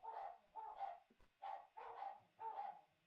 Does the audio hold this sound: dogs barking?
yes